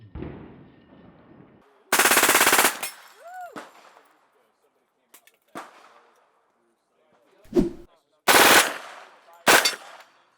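Full-auto bursts from an AR rifle running a Stern Defense 9mm magazine adapter, several sharp, loud volleys of rapid gunfire with short pauses between them, plus a few scattered single shots and brief outdoor noise.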